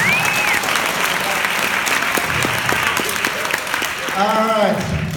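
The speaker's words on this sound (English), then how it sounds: "Let's give a big round of applause for a volunteer." Loud crowd applause at a senior all-night party hypnosis show fills the room, with whistles and cheers rising over the clapping; it stays strong and continuous throughout.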